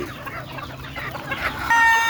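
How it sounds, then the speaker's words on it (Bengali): Chickens cluck in short, overlapping bursts close by, with a brief higher-pitched call rising near the end. "এই যে দেখেন মুরগিগুলো ছাড়ছে"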